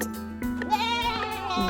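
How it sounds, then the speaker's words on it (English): A farm goat bleats once in a single drawn-out, wavering cry, close and clear over a steady tonal background. "goat,"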